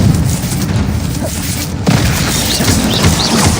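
Confringo fire spell blasts in the Hogwarts Legacy video game, a loud low booming rumble that swells continuously over about three seconds, with a sharper thump midway and bursts of crackling debris after.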